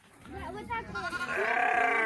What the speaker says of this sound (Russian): Там баранчик, козочки.